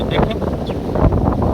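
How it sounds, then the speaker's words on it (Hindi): Cold wind blows outdoors in the early morning under a cloudy sky, a steady broadband rush into the microphone with someone talking over it throughout. "बहुत ठंडी हवा चल रही है"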